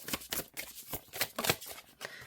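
Oracle cards being shuffled overhand, giving a quick run of soft papery riffles and flicks in uneven bursts, close and fairly quiet with no talking.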